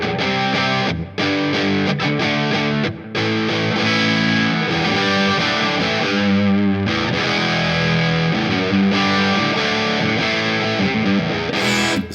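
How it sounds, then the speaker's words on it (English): An electric guitar plays through a DigiTech X-Series Hot Rod distortion pedal on a gained-down fuzz setting, giving loud, sustained chords and riffs with a gritty, saturated tone. It plays continuously for about twelve seconds, with brief stops between phrases. "that's the fuzz, but just gained down"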